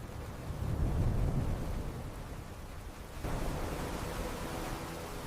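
A storm blows against the woven hanging nests of Southern Masked Weavers as a steady, dense roar of wind, continuous and fairly loud, swelling slightly partway through with no other distinct sounds.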